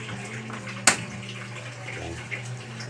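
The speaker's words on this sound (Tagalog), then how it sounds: "Tapos lagyan natin tubig, papakuluan natin." Water runs from a tap into a cooking pot (kaldero) before boiling mung beans for a Filipino munggo dish, a close, rushing splash broken by one sharp metallic clack near the start.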